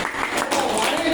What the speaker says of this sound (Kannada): ಎಲ್ಲರೂ ಚಪ್ಪಾಳೆ ಹೊಡ್ರಿ ಮತ್ತೊಮ್ಮೆ